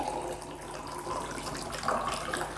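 Water poured from a tap into a container for soaking vegetables such as okra and tomatoes, a continuous running gush with small splashy surges, moderately loud and heard alone.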